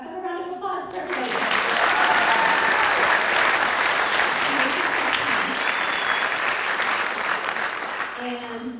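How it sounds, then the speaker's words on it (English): Applause from an awards ceremony audience, a loud sustained wash of many hands clapping that swells in after a short spoken line, holds steady for several seconds, then tapers off as a voice returns at the end. "How about a round of applause for everybody?"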